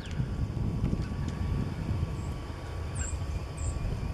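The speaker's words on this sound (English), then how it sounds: "It keeps that roar of the wind noise down to a minimum." Steady roaring wind buffets a camera microphone outdoors on a fishing trip, continuous low rumble with gusts and no talk.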